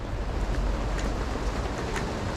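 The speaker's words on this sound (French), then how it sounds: "La pluie est plus forte." Heavy rain in a video game falls as a steady, dense hiss, loud and even throughout, with faint scattered patters on top and no voices.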